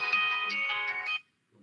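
A telephone ringtone plays a bright, sustained melodic chime for just over a second, then stops abruptly into near silence before a faint sound at the end.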